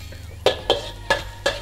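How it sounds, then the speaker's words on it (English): Garlic, coriander and chili going into a hot frying pan for steamed flower dumplings give four short, sharp clattering sizzle bursts, close and fairly loud, spaced unevenly over a low background hum. "Start frying."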